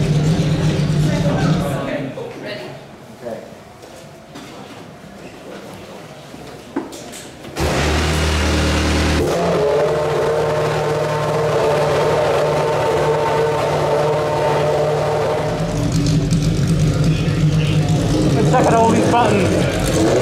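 A Formula 1 car's engine roars loud and close for the whole stretch, dropping briefly before surging back into a sustained, heavy drone as the car pulls away.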